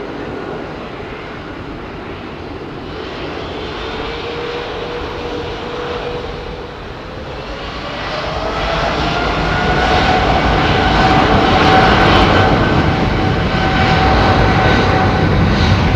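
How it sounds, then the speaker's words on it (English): Leased airplane's jet engines at London Heathrow Airport, a steady roar that swells louder partway through as a rising whine builds, continuous and fairly close. "This is a leased aeroplane"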